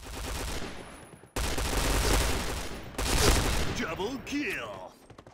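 In a video game, a P90 submachine gun fires in loud, rapid bursts of automatic fire that stop and start in sharp blocks, with brief lulls between the volleys.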